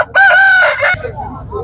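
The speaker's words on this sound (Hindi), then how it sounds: "पंजाब जागिरी क्रॉस मुर्गा है।" A Punjab Jagiri cross Aseel rooster at a bustling Sunday Aseel market in Quetta crows once, close and loud, a short strained cock-a-doodle-doo trailing off into faint crowd murmur.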